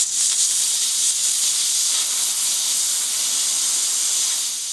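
Homemade steam boiler built from a soldered capped pipe about 8 inches long and 2.5 inches wide, releasing a loud, steady, broadband hiss of escaping steam that continues unbroken throughout.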